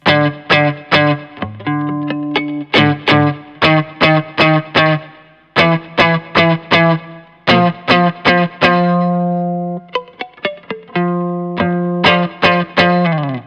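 Distorted electric guitar plays a series of short, muted notes one after another, each cut off quickly, with brief pauses between groups.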